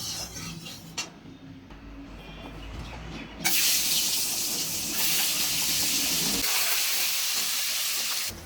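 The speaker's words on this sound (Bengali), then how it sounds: "তেল গরম হয়ে গেছে আমার, ডিম এলো ছেড়ে দেবো সবার।" Eggs sizzling and frying in hot oil in a pan for a dhaba-style egg curry, a steady close hiss that jumps louder partway through and holds, with no talking.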